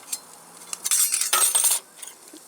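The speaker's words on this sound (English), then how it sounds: "Now, to extinguish the flame, the stove comes with this little snuffer." A small metal snuffer on a Sterno Inferno camp stove clinks and scrapes as it is fitted over the flame, with a short burst of rattling metal contact up close and a few lighter taps before and after.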